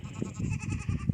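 A Boer billy goat on a farm bleats in a run of low, wavering calls, close by and fairly loud, with no talk over it.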